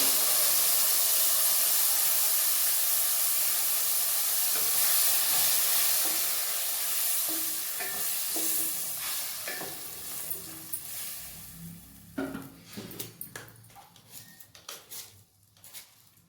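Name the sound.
tomato paste sizzling as it is added to hot oil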